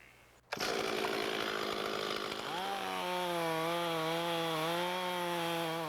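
A chainsaw on a small woodlot roars loud and close after a short quiet lead-in, first cutting with a rough, ragged tone, then settling into a steady high-revving whine.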